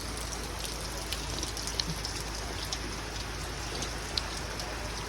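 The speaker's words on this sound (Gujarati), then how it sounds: "વરસાદ ચાલુ થઈ ગયો, તમે જોઈ શકો છો." Rain falls steadily in a jungle, a constant soft hiss with scattered louder drops and no voices.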